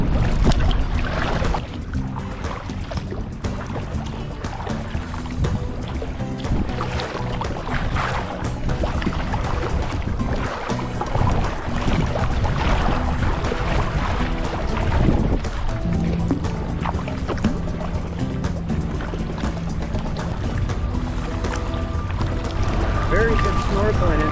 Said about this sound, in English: I'm gonna kayak around it.